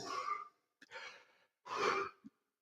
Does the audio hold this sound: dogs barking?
no